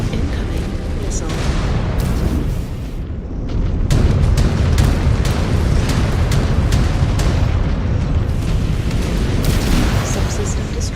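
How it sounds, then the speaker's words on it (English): Incoming missile explosions in MechWarrior 5: Clans, heavy booming blasts and rumbling detonations close and loud, striking repeatedly over a continuous roar of combat noise. "Incoming missile."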